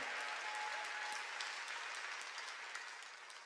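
A church congregation at a Sunday worship service clapping together, a dense wash of applause that holds steady and tapers slightly at the end, heard from a distance in a large room.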